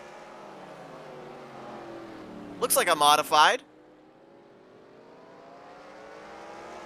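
Steady drone of stock car engines in a racing video game on the Bowman Gray short track, a continuous hum running throughout with a brief loud voice cutting in at the middle.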